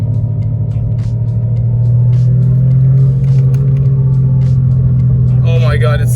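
A loud Audi 90 quattro drives along with a heavy, constant low engine rumble and drone filling the cabin, steady and close, while a voice talks over it near the end.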